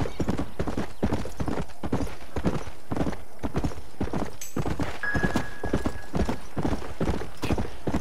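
Horse hooves galloping in Red Dead Redemption: Undead Nightmare, a steady fast clip-clop rhythm that carries throughout at moderate loudness over a dense game soundscape, with no talk.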